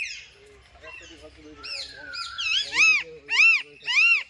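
Parakeets at a small zoo give a run of loud, harsh squawking calls, three sharp ones close together near the end, following a stretch of people talking.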